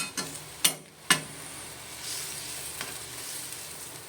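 Fried hilsa pieces drop into mustard gravy in a pan, with two sharp splashy thuds followed by a steady, close simmering sizzle.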